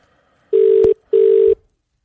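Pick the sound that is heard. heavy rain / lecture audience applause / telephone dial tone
telephone dial tone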